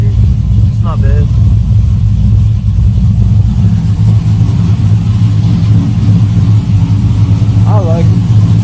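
A Chevrolet Trailblazer engine being fitted with a supercharger idles steadily and loudly on its first start, with a constant low rumble throughout and a voice talking over it.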